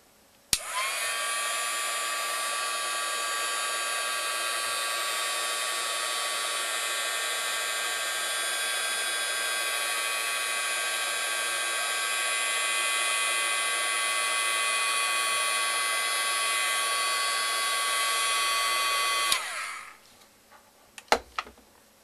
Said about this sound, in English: And get out our heat tool.